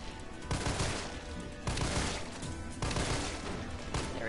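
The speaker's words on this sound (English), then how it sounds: "I have enough bullets to just start shooting them." Gunfire from the Resident Evil 3 video game as enemies are shot, with loud sustained bursts of rapid shots separated by short gaps, close and dense.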